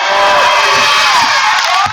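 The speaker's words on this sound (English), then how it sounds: "The loud crowd by the faithful UOP pep band." A loud basketball crowd at a UOP game cheers and roars in a continuous, dense wall of sound, with a pep band faintly audible beneath the cheering.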